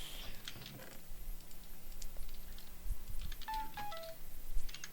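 In the video game Bed Wars, short electronic notification beeps chime in quick succession, bright tones over clicky game noise and a low background hum.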